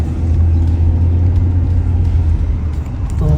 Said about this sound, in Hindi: तो देख सकते हो गाड़ी पहले गियर पे ही चल रही है, दूसरा गियर तो लगा ही नहीं अभी तक।